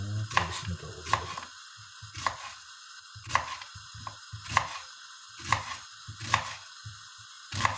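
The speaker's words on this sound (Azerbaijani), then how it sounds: "biz belə səmavari doğrayırıq soğanımızı" A knife chops onions on a board, with about a dozen sharp, evenly spaced chops close by over a faint background hum and no talking.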